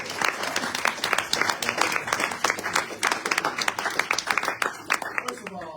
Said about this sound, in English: another round of applause for this guy